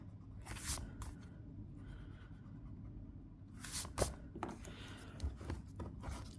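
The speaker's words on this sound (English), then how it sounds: "So if we'll just erase that." Pencil lines being erased from paper during a cube drawing practice, with a few short bursts of rubbing and scratching, close and quiet, separated by pauses.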